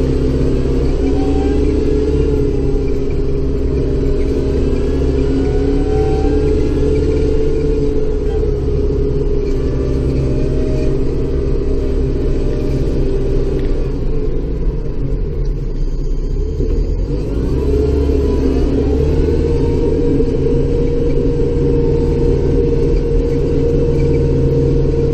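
A vehicle engine rumbles steadily while driving in snow in Bay Roberts, Newfoundland, a loud continuous low drone from inside the cab with slight shifts in pitch as it works.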